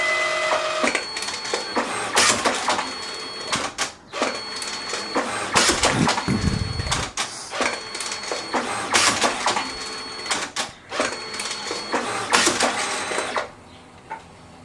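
A DNP DS620 photo printer feeds and calibrates its paper and ribbon, giving repeated bursts of close mechanical whirring and clicking with short pauses between cycles.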